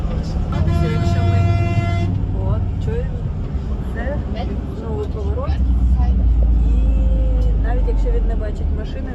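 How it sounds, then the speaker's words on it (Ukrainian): A loud car horn blares steadily for about two seconds at the start, sounded at a bend, followed by engine rumble and someone talking over road noise. "Водій постійно сигналить е, на кожному повороті"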